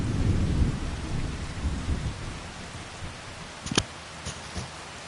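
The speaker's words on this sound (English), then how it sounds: "Ooh, that rain's loud." Heavy rain pours steadily in the Farming Simulator 25 video game, with deep rolling thunder early on and a few sharp, close thunder cracks near the end.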